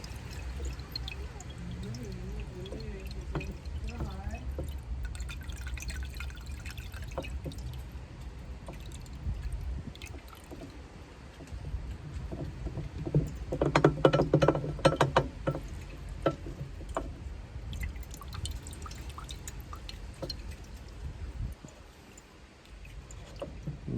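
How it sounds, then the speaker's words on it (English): Fuel drains from a Volkswagen Golf's fuel filter during a home service, a faint steady trickle and dripping that runs throughout, with a brief, louder burst of splashing and handling noise midway. "And just let that all drain out."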